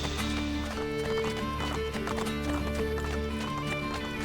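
Rhythmic hoofbeats of a horse in Assassin's Creed Brotherhood, steady clip-clop over a droning game soundtrack with tonal music layers.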